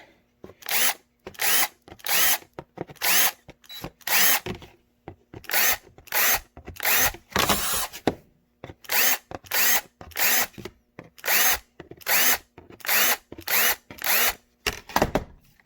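Power drill boring through material while a Kydex holster is made, running in about a dozen loud, close bursts of one to two seconds each, separated by short pauses, with no talking.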